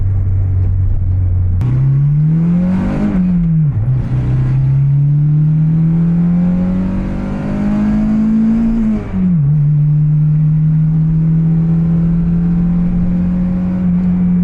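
An Acura RSX engine heard from inside the car while driving: a loud, close hum that climbs in pitch through gear shifts with brief dips, then holds steady while cruising, no talking.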